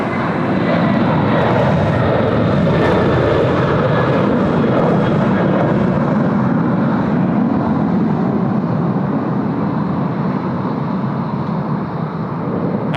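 A large airliner flies past at Sydney Airport, a loud, sustained jet roar close by that fills the air for several seconds before easing slightly as it moves away.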